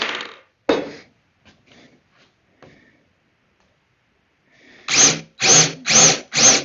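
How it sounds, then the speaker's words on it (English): A power drill driving screws into wood whirs in four short, loud bursts near the end, after a few quieter knocks and clatters and a stretch of near silence. "I have to drill screws in this way"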